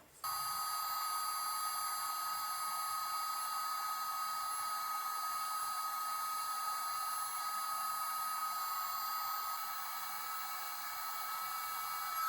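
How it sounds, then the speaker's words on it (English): A heat gun runs steadily close by, giving a constant blowing fan hiss with a sustained high electrical whine, unbroken for about twelve seconds with no speech. "get our way cool heat gun. It's actually a pretty nice heat gun."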